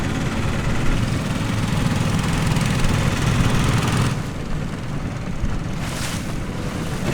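Motor boat cruising on a wide river in Myanmar, a loud steady engine drone and rushing water with wind buffeting throughout, slightly easing partway.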